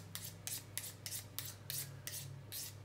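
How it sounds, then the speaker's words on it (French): A knife blade is drawn along a honing steel in about eight quick, even metallic scraping strokes, close and steady, with no voices. "Sur les lames très longues, on peut tricher pour les lames souples et flexibles en tenant une partie de la lame de la main pour aiguiser que la pointe."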